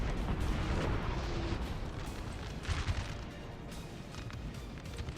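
Artillery fire in the video game Napoleon Total War: dense, loud, rumbling cannon booms roll over one another with a heavy low-end roar that eases slightly toward the end.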